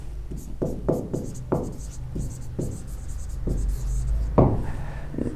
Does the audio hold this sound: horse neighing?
no